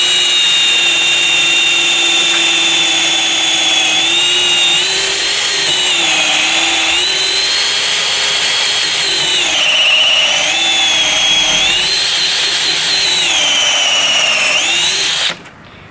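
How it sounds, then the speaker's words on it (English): A power drill bores steadily through the end grain of an Australian native hardwood, giving a loud, continuous, strained whine that shifts pitch with load for about fifteen seconds, then cuts off abruptly. "Let's try drilling through the end grain."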